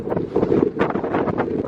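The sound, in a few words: northwest wind blowing near mountain summit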